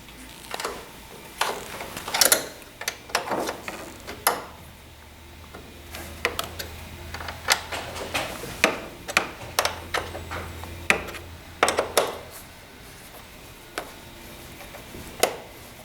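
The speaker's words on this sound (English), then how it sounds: "using a 6mm Allen wrench to remove the screw" Irregular small metallic clicks and ticks from a 6mm Allen wrench turning a screw on a furniture side panel, close, with soft handling noise between.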